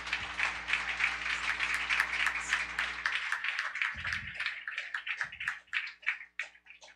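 Church congregation at a Haitian Baptist service applauds together, a dense wash of clapping that thins into scattered claps toward the end, with faint low voices underneath.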